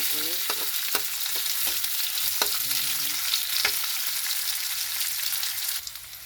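White onion, garlic and ginger sautéing in a pan with chicken backbone, a loud continuous sizzle with sharp utensil knocks and scraping strokes, then easing off near the end.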